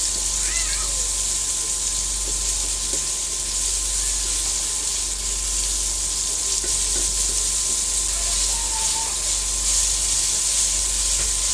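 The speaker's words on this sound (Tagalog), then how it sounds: "gisa lang po natin ng maigi" Chopped tomatoes sauté in a hot pan for a home-cooked fried fish dish, giving a continuous loud sizzle and hiss with faint scraping underneath, while a cat meows briefly in the background.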